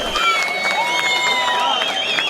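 Crowd noise at a Vienna train station as a train full of migrants pulls in, a steady wash of applause and cheering with scattered voices and whistles running under the whole stretch.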